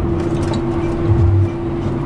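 A heavy John Deere 8400R tractor drives through a harvest field, its engine a loud, steady, close drone with deep rumbling underneath and no pauses.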